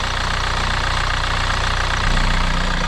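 A warmed-up Hyundai Tucson 2.0 diesel engine idles steadily up close with its oil cap off, a constant low rumble that grows slightly louder toward the end.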